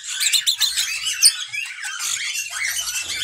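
Singing parrots in a cage, two adults and their young chick, chirp and twitter continuously in bright, rapid overlapping calls close by, with no talking.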